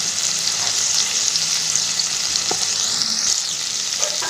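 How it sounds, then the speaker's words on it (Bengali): Spices fry loudly in hot oil for a banana blossom ghonto with turmeric powder added, a bright continuous sizzle close by, with a spatula stirring and scraping and occasional light knocks. "আমার মশলা খুব ভালোভাবে ভাজা হয়ে গেছে। আমি এবারে দিয়ে দেব হলুদের গুঁড়ো"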